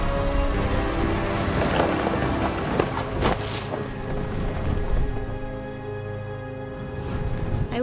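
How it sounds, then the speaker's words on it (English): A thunderstorm in the video game What Remains of Edith Finch brings steady heavy rain, with a sharp thunder crack near the middle and rolling rumbles underneath, loud and close. "The thunder sounded much too close and full of angry power"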